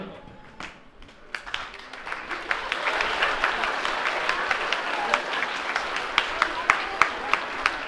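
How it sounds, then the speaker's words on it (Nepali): An audience at a youth gathering in Nepal breaks into applause. It starts soft and builds to sustained clapping, with sharp individual claps standing out toward the end, and murmuring voices mixed in. "ताली बजाइदिउँ न यस्तो"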